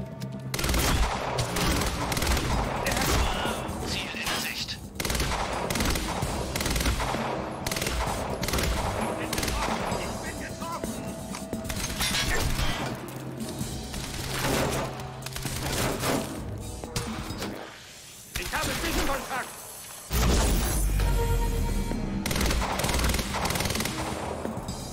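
Rapid, dense bursts of automatic gunfire from the video game Quantum Break fill most of the stretch, loud and near, with a short lull before the firing resumes heavily.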